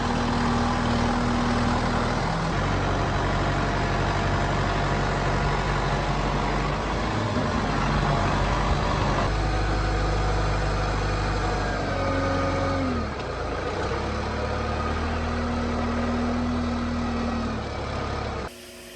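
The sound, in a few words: tractor engine driving through ruts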